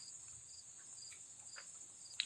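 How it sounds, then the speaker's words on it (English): Crickets chirp in a steady high-pitched drone outdoors under an overcast sky amid greenery. The sound stays faint and continuous, with a few light taps scattered through it. "I'm listening to the crickets."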